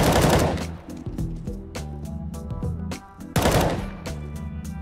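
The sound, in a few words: gunfire from the video game CS:GO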